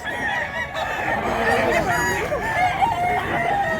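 At a busy chicken market a rooster crows loudly and steadily, layered over clucking fowl and a murmuring crowd, with voices faintly mixed in throughout.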